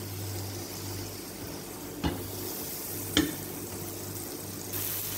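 Butter melts in a hot frying pan with a constant close hiss over a faint hum, broken by two clear knocks of a utensil on the pan; no talk.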